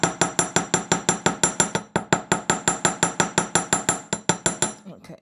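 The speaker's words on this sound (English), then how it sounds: "with a larger leaf, you hammer the base loop and the curls" Rapid steady hammering on the wire base loop of a wirework rose necklace, around two dozen sharp metallic taps in an even rhythm, close and loud, stopping abruptly near the end.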